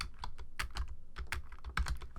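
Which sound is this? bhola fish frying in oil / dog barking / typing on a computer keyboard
typing on a computer keyboard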